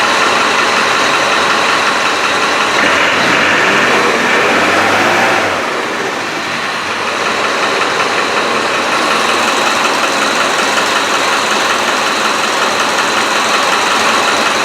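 Diesel engine of a 300Tdi Land Rover 110 revving up loudly and steadily, a dense broadband roar with a brief dip around six seconds before settling back into a strong, close throb.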